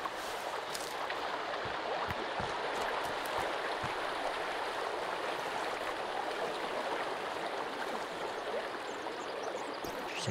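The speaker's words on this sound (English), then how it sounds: "Some water." Flowing stream water in Sons of the Forest, a steady close rush and babble of running water that continues evenly throughout with no pauses.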